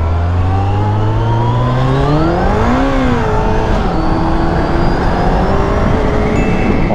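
A Honda CBR1100XX motorcycle engine accelerating on the road, its rising pitch climbing steadily, sweeping up sharply, dipping, then holding a steady drone under constant wind rush, close and loud throughout.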